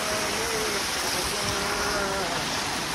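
Cold river in monsoon-season Uttarakhand rushes in a steady, dense wash, loud and continuous, with a faint voice partly buried beneath it.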